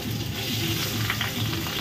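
Fish frying in a pan for Bengali-style machher jhal, a dense, continuous sizzle and crackle of hot oil, close and loud with no talking.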